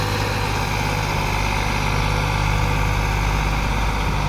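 Swaraj tractor engine labouring as it hauls a fully loaded trolley, a steady loud low drone that holds constant and close throughout with no talk.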